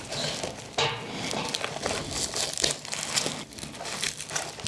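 Nylon and plastic crinkle and rustle up close as a tourniquet is pushed and fitted onto the bottom of a Dank Robber chest rig from Unobtanium Gear, with irregular handling scrapes throughout and no talking.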